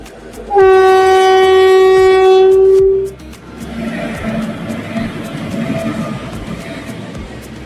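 A slow freight train sounds a long, loud horn blast, then its wagons rumble and clatter past in a steady, rhythmic roll with faint clicks over the rails.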